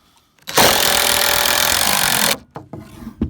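DeWalt 18 volt cordless drill drives a screw into wood in one continuous two-second burst of loud, high-pitched whirring that stops abruptly, followed by a few small knocks and handling sounds.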